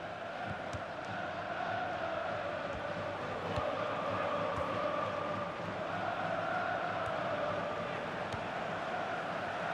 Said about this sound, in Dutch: het publiek fluit